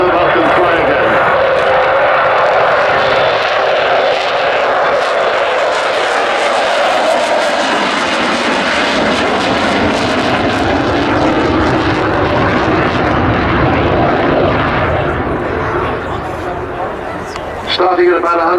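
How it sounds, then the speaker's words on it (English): The Avro Vulcan XH558 bomber roars through a flying display at an RAF Cosford airshow in 2015, a loud, sustained jet engine rumble that swells and shifts as the aircraft passes, continuous throughout. "Here she is then, in her last ever flying display season."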